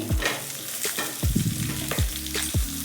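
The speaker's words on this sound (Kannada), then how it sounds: "ಇವಾಗ ಜೊತೆಗೇ ಈರುಳ್ಳಿ ಹಾಕೋತಾ ಇದ್ದೀನಿ" Onions frying in a pan as a utensil scrapes and stirs them, a soft steady sizzle broken by several distinct knocking strokes against the pan, heard close and alone.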